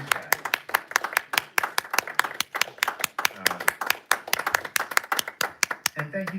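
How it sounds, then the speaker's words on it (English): Audience at a local candidate forum claps for the candidates, a moderate crowd whose individual sharp hand claps stand out distinctly in a brisk, uneven patter that holds steady throughout, close and fairly crisp. "How about a round of applause for these guys?"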